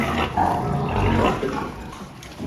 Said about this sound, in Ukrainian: Як бачите, свинка плотно поїдає корм